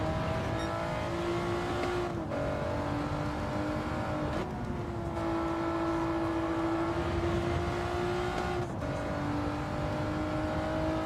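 A race car engine in a racing video game holds a high, steady drone, with brief dips at each gear change. It sounds loud and continuous throughout, without speech.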